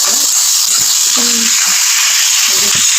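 Tomatoes fry in a pan for a simple vegetable dish, giving a loud, continuous hiss and sizzle with a few faint clinks and tones underneath.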